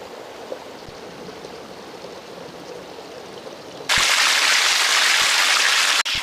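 Water from an old healing spring in the Forest of Dean flows in a steady, moderate rush, then suddenly swells into a much louder, close roar partway through, with no talking.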